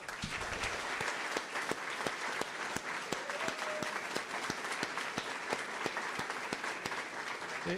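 Audience applause for the evening's presenters at a school district celebration, a steady wash of many hands clapping with sharp individual claps standing out, sustained evenly throughout at a moderate distance.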